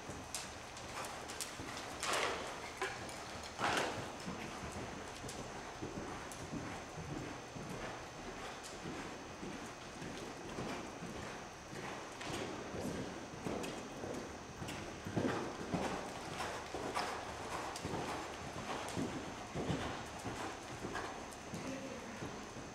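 A ten-year-old Percheron mare canters, her hooves making a rhythmic, repeating clip-clop that stays fairly faint and distant over a light background for the whole stretch.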